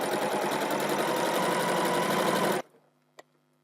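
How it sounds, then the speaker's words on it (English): A domestic sewing machine runs a quilt strip seam while piecing four-patch blocks: a fast, steady mechanical whir for about two and a half seconds that cuts off abruptly, followed by a faint single click. "Then at the machine, you just sew along that one edge."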